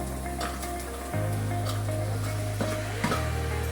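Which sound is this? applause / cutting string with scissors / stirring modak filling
stirring modak filling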